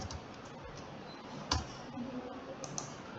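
Keys clack on a computer keyboard as registration details are typed in, a quiet, irregular run of close clicks with one sharper tap near the middle.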